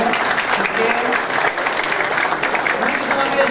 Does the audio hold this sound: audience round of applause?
yes